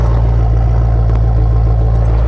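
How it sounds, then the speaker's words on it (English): A Maserati Quattroporte GTS exhaust drones at a steady low pitch on the car's first drive, a deep continuous rumble with faint mechanical clatter on top. "Listen to that exhaust."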